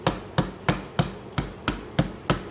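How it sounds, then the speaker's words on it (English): Wooden dowels are tapped into an IKEA ALEX desk drawer panel with a hammer, giving eight evenly spaced, sharp knocks close to the microphone. "take a hammer and lightly hammer them in"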